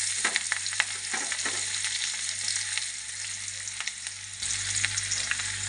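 Onion fries in hot oil in a wok, giving a dense continuous sizzle with crackling pops throughout, close and fairly loud, with a low hum underneath.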